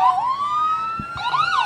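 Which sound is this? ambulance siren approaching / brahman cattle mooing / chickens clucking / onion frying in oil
ambulance siren approaching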